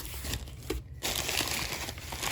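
Packing paper crinkles and rustles close up while a Simplex 2902 is unboxed, with uneven crumpling bursts and a brief pause partway through.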